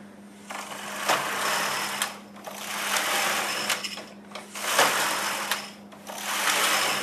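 A Singer System 9000 knitting machine works rows of English rib, its carriage sweeping back and forth in a steady rhythm of whirring, clattering passes with short pauses between each stroke, close and clear with no talking.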